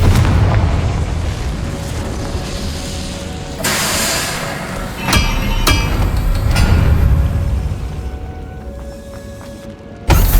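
Confringo fire spells burst in a Hogwarts Legacy battle, a series of loud explosive booms and sharp cracks over a constant rumbling game soundscape, with a final sudden blast at the end.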